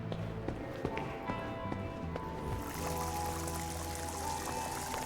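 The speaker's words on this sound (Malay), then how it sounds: "Surutkan air dan masukkan air baru." Water draining and refilling in the Crime Scene Cleaner: Biohazard video game, a steady pouring, running flow that shifts into a brighter, fuller rush partway through, heard alone at moderate level.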